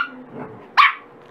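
One abrupt, close yap from a small dachshund breaks a low indoor murmur, then fades quickly.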